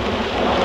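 A steady wash of heavy rain with a low rumble underneath, loud and continuous with no voices, over a very short stretch.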